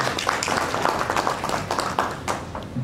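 An audience at a 2023 review and 2024 outlook workshop applauds. The clapping is brisk and crowded, with individual claps standing out, at moderate loudness across nearly three seconds.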